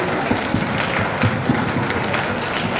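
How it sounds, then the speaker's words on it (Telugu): Audience applause at a school gram sabha gathering, a steady wash of many hands clapping at moderate volume with a few sharper claps standing out, no talk over it. "చప్పట్లతోటి, క్లాప్స్ తోటి"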